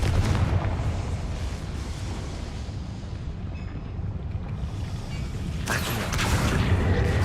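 Explosive combat spells going off in Hogwarts Legacy, a dense, continuous roar of blasts and rumbling bursts lasting throughout, with a brighter crackling surge near the end and no voices.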